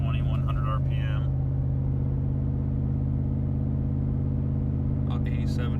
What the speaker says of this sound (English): So this is just normal acceleration I'm doing right here. Constant load at 2100 RPM.